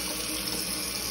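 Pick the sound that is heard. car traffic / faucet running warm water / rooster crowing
faucet running warm water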